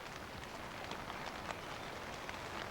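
Heavy rain falls steadily on a heron colony, a dense, even hiss of drops spattering on leaves and nests with no pauses, fairly soft and close.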